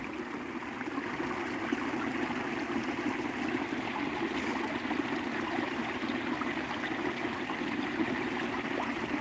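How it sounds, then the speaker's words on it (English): Water from a backyard pump runs down a small garden stream, a steady close trickling and babbling wash that holds even and unbroken throughout with no voices. "There's actually a pump up here that pumps the water down the stream"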